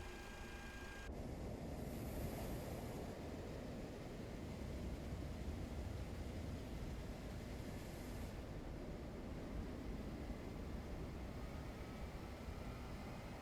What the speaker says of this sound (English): Engine 1 is starting now.